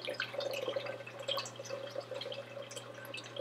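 An Aquibear desktop reverse-osmosis water dispenser runs cold water, a steady close trickle and dripping of water into a container over a low electrical hum.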